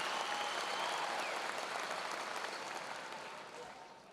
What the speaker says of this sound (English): one more round of applause for our chair